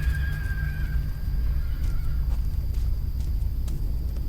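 A deer in a forest video game gives a short horse-like whinny that fades over a second or so, over a steady low rumble of ambient background.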